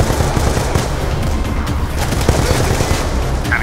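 Continuous rapid gunfire in Call of Duty Black Ops 2, dense automatic bursts rattling without pause, loud and close, with a voice faintly present under the shooting.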